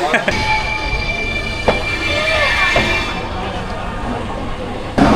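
A train rolls into a busy Indian railway station between two other trains, its rumble and squealing wheels steady under a voice talking nearby, with brief sharp knocks.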